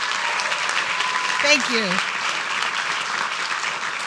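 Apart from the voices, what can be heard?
applause for poster winners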